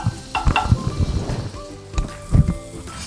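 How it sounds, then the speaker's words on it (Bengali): Butter sizzles on a hot tawa for paneer tikka, crackling close up with a few sharp clinks and stirring bursts. "তো তাওয়াটা আমার গরম হয়ে গেছে, এবার আমি বাটার দিয়ে দেব।"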